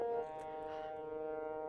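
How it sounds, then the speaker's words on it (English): Civil defense siren sounding during a drill, heard as a steady sustained wailing tone with stacked harmonics, fairly faint and distant in the background, holding constant throughout with no talk. "I don't know if you can hear the siren going off in the background"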